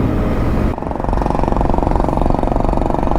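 A motorbike engine with a loud silencer idles close by, a steady, rough, continuous rumble that briefly dips just before the one-second mark, with no talking.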